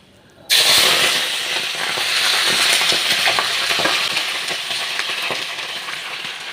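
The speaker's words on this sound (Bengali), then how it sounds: "আমি তেলের ভেতরে একটা ফার্স্টে তেজপাতা দিয়ে দিলাম, দুটো শুকনো লঙ্কা দিয়ে দিলাম, তারপরে আমি পাঁচফোড়ন দিয়ে দিলাম" Bay leaf, two dried chillies and panch phoron dropped into hot oil, a sudden loud sizzle that bursts in and then crackles steadily, settling a little toward the end.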